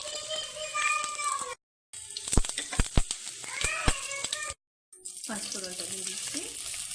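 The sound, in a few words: bay leaf frying in hot oil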